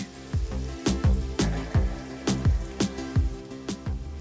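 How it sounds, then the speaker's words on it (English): Three large finely chopped onions with cumin seed and fresh green chilies sizzle and fry in a hot pan, a steady close sizzle broken by repeated soft thumps and scrapes as they are stirred. "Saute the onions, stirring gently until they turn soft and light golden."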